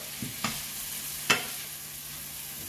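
Meat and vegetables fry in a pan on high heat, giving a soft, steady sizzle with a few faint clinks and stirring knocks, quiet and close.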